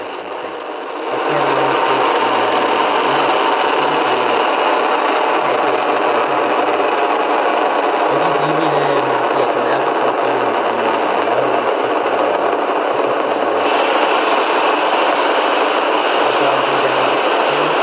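SpaceX Falcon 9 Merlin engines roar during a Starlink launch, a steady, loud rushing drone that rises within the first second and holds unbroken to the end, with faint muffled voices underneath.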